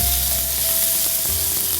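Tomatoes roast in hot oil for a Christmas fusion chicken curry, giving a steady, dense sizzle and crackle up close that continues without pause.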